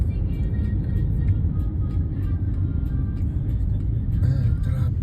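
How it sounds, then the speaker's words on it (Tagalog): Steady road traffic rumbles on throughout, continuous low vehicle noise with occasional engines passing, no clear speech over it. "Ayan, traffic."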